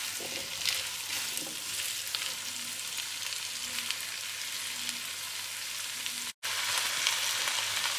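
Potatoes and carrots frying on medium flame for vegetable pulao, a continuous even sizzle with occasional stirring scrapes, close and moderately loud, with a momentary dropout near the end.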